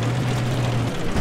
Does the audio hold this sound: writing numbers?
no